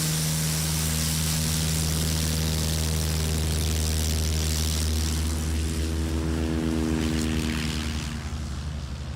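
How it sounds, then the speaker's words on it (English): A Piper STOL airplane taking off at a STOL competition in Gallatin, Tennessee, its propeller engine a loud, steady drone throughout, easing slightly at the end as it climbs away. "That, I think, was the best takeoff of Jeff Abrams, yeah?"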